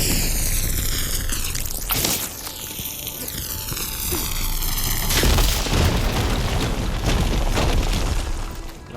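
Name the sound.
fire gleam explosion, from the video game Horizon Forbidden West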